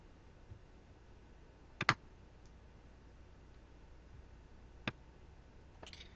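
Sharp, quiet computer mouse clicks sound against a near-silent background while someone selects a document to fax from Google Drive: a quick double click early, a single click later and a final soft click near the end.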